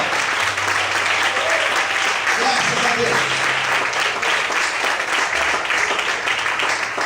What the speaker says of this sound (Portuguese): Mais fortes palmas ao Senhor.